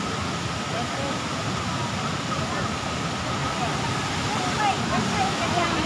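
Steady broadband rush of Gooseberry Falls waterfall at a Minnesota state park near Duluth, a continuous wash of falling water without breaks, moderately loud and constant throughout.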